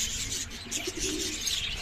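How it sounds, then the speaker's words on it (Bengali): Soft, low cooing of Giribaz pigeons close by at a bird shop, a few murmuring coos over a faint rustling background. "এখানে এটা হচ্ছে গিরিবাজ কবুতর আছে"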